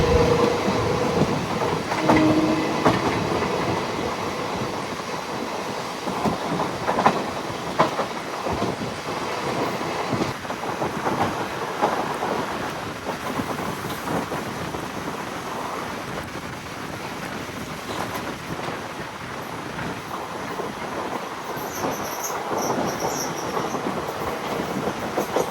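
A Kollam–Nagercoil passenger train runs along the rails with a steady rumbling roar and rattling clatter, heard from inside the carriage, loud and continuous with no talk.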